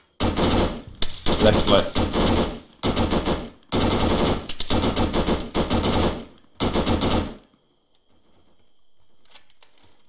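Arma video game gunfire, bursts of loud rapid automatic fire in several close volleys that stop abruptly near the end, with brief speech heard.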